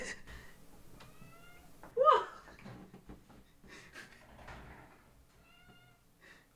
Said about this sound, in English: My cat's just gonna be in the background now.